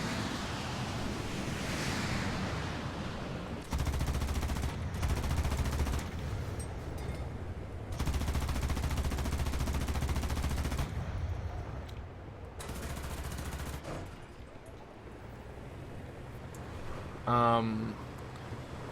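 A World War II era gun fired in War Thunder, heard as several sustained bursts of rapid automatic fire under a constant wind-like rush of flight noise, with one brief buzzing tone near the end.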